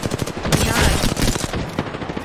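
Rapid automatic gunfire in an online shooter game crackles in a dense continuous burst, loud and close, with overlapping shots from several directions.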